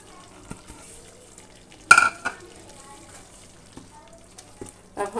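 A spoon stirs moong dal with cumin and black pepper in a cooking pan, making a soft, quiet scrape broken by one sharp metallic clang and a few faint clinks.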